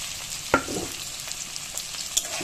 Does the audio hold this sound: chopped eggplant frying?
yes